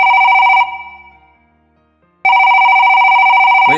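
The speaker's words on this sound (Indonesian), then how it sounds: "Wait. Ada telepon." A telephone rings loudly and close with a steady electronic tone, then decays into quiet before a second loud ring begins abruptly.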